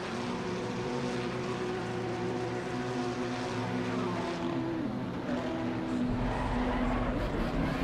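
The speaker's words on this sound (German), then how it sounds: "Sofort gehen die Motoren hier alle an." Race car engines in the Assetto Corsa Competizione racing game start up and idle together as a dense, loud droning roar with steady harmonic hum, continuous throughout and alone without talk.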